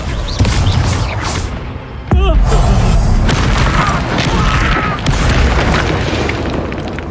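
A Confringo spell explosion in the video game Hogwarts Legacy bursts loudly with a heavy boom after a brief lull, followed by sustained crackling debris and rumbling that fills the rest of the scene.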